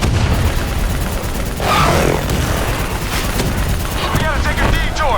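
Heavy battlefield gunfire and booming explosions in Call of Duty: Black Ops 3, a dense, loud barrage running throughout while a soldier shouts orders over the din.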